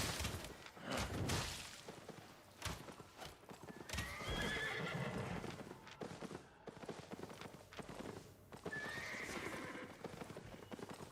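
A horse mount in a video game gallops with rapid, close clip-clopping hooves and gives two shrill neighs, with rustles and action sounds mixed in.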